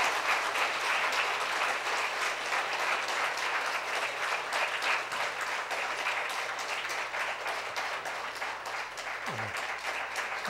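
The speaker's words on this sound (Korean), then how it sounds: "크게 박수로 감사드리겠습니다" Loud, sustained applause from a church congregation at an elders' ordination ceremony, a dense wash of clapping holding steady for about ten seconds with no voices over it.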